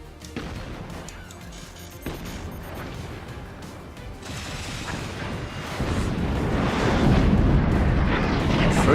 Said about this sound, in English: First howitzer comes through